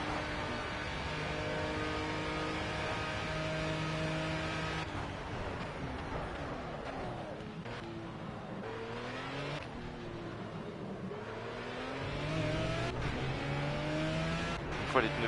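A race car engine in Project CARS roars continuously, revving up and down through gear changes with whining pitch sweeps and occasional tire noise, loud and steady throughout.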